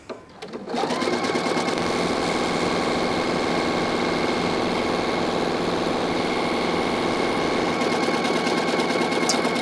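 A sewing machine stitches lace tape onto flat fabric, running steadily at high speed with a dense, even mechanical rattle after a brief start, close and loud throughout.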